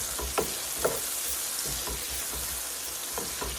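Brinjal tossed with salt and turmeric sizzles steadily in a frying pan for pickle, with a dense crackle throughout and several short scraping stirs of a spoon against the pan.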